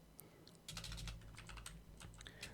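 Someone typing on a computer keyboard, a quick burst of close, quiet key clicks in an irregular rhythm with no talk.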